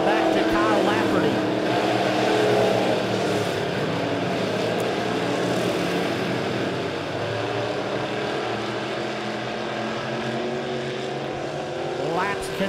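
Dirt track modified race cars roar around Springfield Raceway during a heat race lap, their engines droning loudly and continuously with pitch rising and falling as the cars pass, while an announcer's voice talks over the racket.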